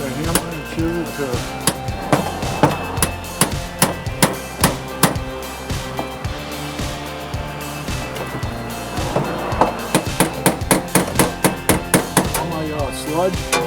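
Sharp metallic strikes ring out repeatedly, some irregular and some in quick bursts, a hammer hitting a chisel during fuel pump work on a 2003 Chevrolet Silverado, over a faint background hum.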